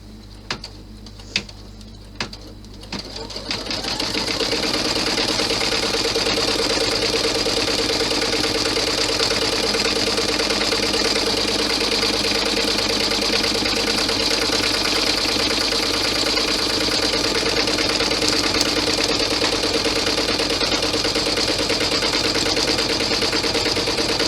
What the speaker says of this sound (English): we're going to stitch out the pocket placement onto the stabilizer